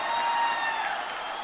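Applause welcomes the party chairman and prime minister at the opening session of the Rastriya Swatantra Party's first general convention, a dense, steady wash of clapping from a large crowd that carries through the short moment.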